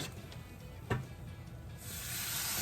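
A steady, soft sizzling hiss from a pan on a kamado grill, with a brief clatter near the middle and the frying growing slightly brighter toward the end.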